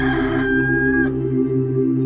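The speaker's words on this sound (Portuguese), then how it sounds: "e no mesmo instante cantou o galo." A rooster crows once, loud and close, its long sustained call fading off after about a second with nothing else heard.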